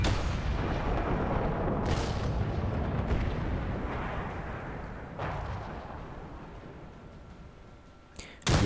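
A T32 tank fires its main gun in World of Tanks: a loud, heavy boom with a long rumbling roll-off that fades over several seconds, followed by a sharp crack near the end.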